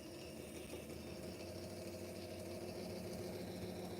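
A sharpening machine set to around 1400 RPM drives a leather belt, giving a steady mid-level motor hum and drone that runs evenly throughout, with no voices.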